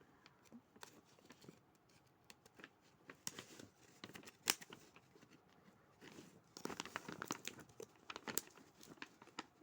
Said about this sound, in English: So, cut this open with some scissors.